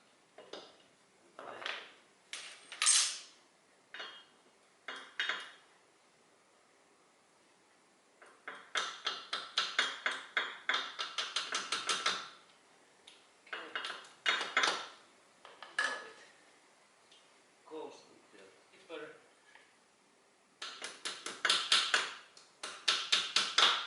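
Repeated bursts of sharp metallic taps and knocks from hammering a metal pin on a Toyota Corolla front wheel bearing, in short clusters separated by pauses, fairly close and moderately loud.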